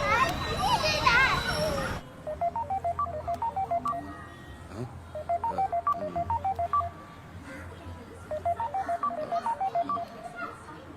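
Three bursts of rapid telephone keypad tones, each a quick run of beeps, separated by pauses, after children's voices chatter at the start.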